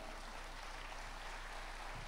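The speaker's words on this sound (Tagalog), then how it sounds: "Palakpakan po natin ang ating Panginoon." Church congregation applauding the Lord, a dense, even wash of clapping held steady and fairly distant throughout, without talk over it.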